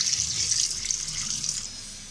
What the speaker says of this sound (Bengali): আমার মাছটা তো হয়ে গেছে, এখন এগুলো আমি ধুয়ে নিব।